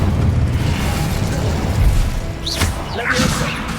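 Incendio fire spell cast in the Hogwarts Legacy video game, a dense rumbling whoosh with bursts and crackling flares near the end, loud and close over game ambience.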